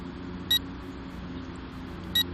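Two short, sharp electronic beeps from an FPV drone's radio transmitter, a XIANGYU Falcon folding drone controller, sounding about a second and a half apart over a steady low background hum.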